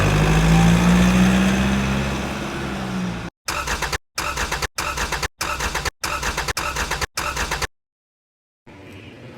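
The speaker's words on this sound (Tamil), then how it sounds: "திடீர்னு கார் பிரேக் டவுன் ஆன மாதிரி இருக்கு நான் ட்ரை பண்ணா ஸ்டார்ட் ஆக மாட்டேங்குது" A car engine runs steadily and then stalls. A string of choppy, sputtering bursts follows, like repeated failed attempts to keep it going, before it drops to silence and gives a faint final rattle.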